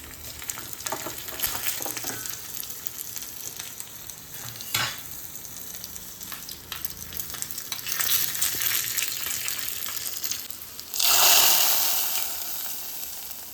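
Crushed garlic and a dry red chili fry in hot oil for a gooseberry rasam tempering, a continuous sizzle with stirring clatter that swells into a loud, bright hissing burst near the end.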